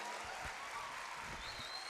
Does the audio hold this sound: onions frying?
no